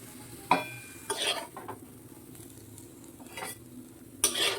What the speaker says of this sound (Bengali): শাকটা একদম ভাজা ভাজা মতো হয়ে গেছে